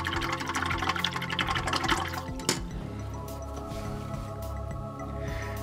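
A paintbrush used with liquid masking fluid is rinsed in water, a splashy running-water wash for the first two seconds, then a gentle trickle and drips.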